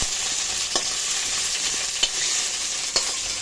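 Soya chunks frying in hot oil, a continuous bright, loud sizzle with a few faint scraping stirs at irregular intervals, close up and without talk.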